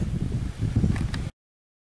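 Low rumbling wind buffets the microphone in gusts in an open field during metal detecting, then the recording cuts abruptly to silence.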